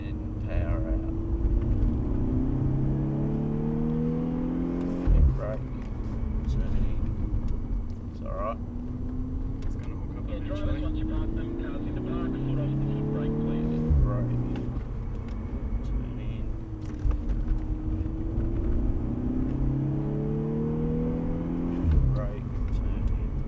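A Volkswagen car being driven hard, its engine rising under acceleration and dropping sharply under braking in repeated cycles, with a steady road rumble and a voice talking over it.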